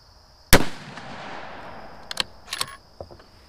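A Savage Axis 2 Precision rifle fires a single loud, sharp shot at an outdoor range, its report decaying into the air, followed by a few light metallic clicks and clatters of the action.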